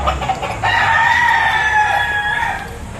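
A rooster crows loudly and close by, giving one drawn-out cock-a-doodle-doo among clucking chickens at a poultry market in Lipa, Batangas.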